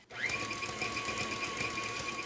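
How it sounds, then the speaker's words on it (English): An electric mixer with a whisk attachment whirs through heavy cream, a steady close motor drone with a high whine that starts abruptly and runs evenly throughout. "then you just throw it in with a whisk and turn it on"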